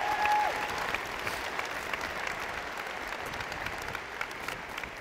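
A large audience applauding the band, orchestra and choir teachers at a school district's opening day ceremony, a broad wash of clapping with a faint crowd murmur, holding steady at moderate loudness.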